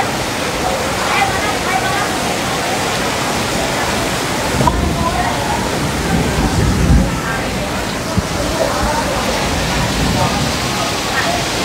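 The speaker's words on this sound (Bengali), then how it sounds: "আর দেখেন পানির অবস্থা, ও প্রচুর বৃষ্টি" Heavy rain pouring steadily outdoors in Malaysia, a dense continuous wash of noise with water splashing over a parking area; it sounds close and fairly loud throughout, with a few brief louder bursts.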